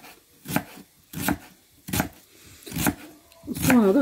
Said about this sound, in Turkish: Soğanlarımızı bu incelikte ve bu küçüklükte böyle şu şekilde doğruyorum